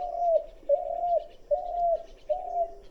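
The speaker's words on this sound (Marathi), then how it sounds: "पारव्याचा आवाज हा मधुर आणि शांत असतो." A dove coos four times in a slow, evenly spaced rhythm, each soft, rounded call close and clear against an otherwise quiet background.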